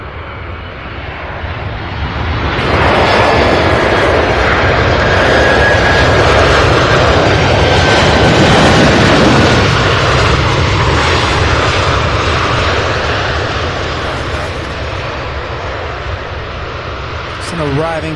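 A FedEx aircraft arriving from Memphis, Tennessee roars loudly overhead at the airport, its jet engine noise swelling and slowly fading, with faint radio chatter and voices underneath.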